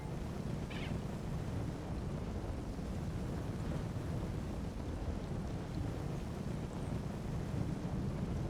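Hail storm in the video game Elder Scrolls Online, a dense steady rumbling roar of falling hail and storm noise that holds constant throughout.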